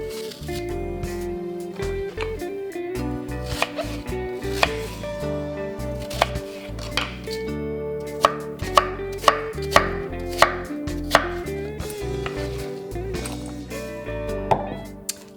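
A knife chops apples on a cutting board for German red cabbage, with steady close thuds that come in irregular runs and grow sharper and more regular partway through, with no talking.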